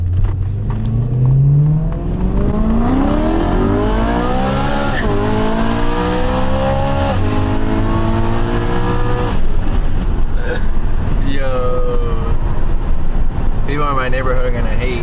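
BMW E92 M3 engine revving hard nearby, rising and falling through several sharp climbs and drops with tire noise, loud and continuous for the whole stretch.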